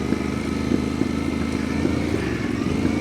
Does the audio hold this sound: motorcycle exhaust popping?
yes